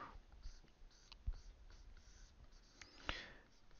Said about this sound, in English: At first, I am just drawing what's there.